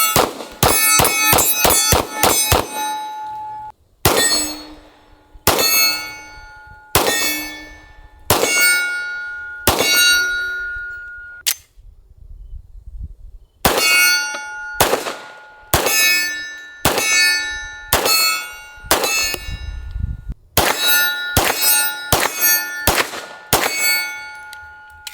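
Shots from 1911 pistols chambered in .45 ACP, 10mm and 9mm, each followed by a bright metallic clang off steel targets, with a rapid string of hits at the start and then spaced single and grouped shots and ringing impacts, loud and near.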